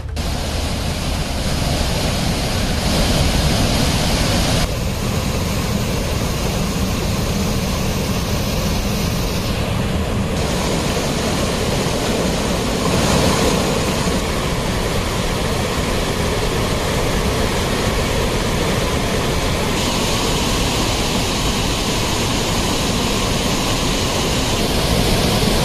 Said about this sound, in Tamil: தடுப்பு வெளிகளை தாண்டி கல்மண்டபத்தை மூழ்கடித்தவாறு தண்ணீர் செல்வதால்